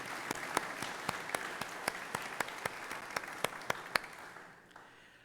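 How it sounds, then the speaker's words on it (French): Hands clap in a regular rhythm, about a dozen distinct sharp claps over a soft crowd-like background in a hall, applauding the priests of the diocese, then fading out. "Oui, on les applaudit, tous les prêtres du diocèse."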